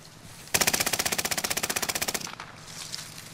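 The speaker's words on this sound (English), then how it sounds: "He's getting shot." Rapid automatic gunfire in a shooter video game, one loud, evenly spaced burst of about twenty-five rounds lasting nearly two seconds, then quieter background noise.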